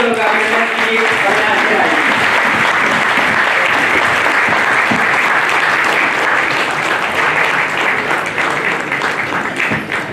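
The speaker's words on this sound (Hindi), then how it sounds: "यहाँ पर आप जोरदार तालियों से उनका अभिनंदन कीजिए।" A large audience gives loud, continuous applause at a national award ceremony held in India's parliament, the dense clapping steady from start to finish with only a slight easing at the end.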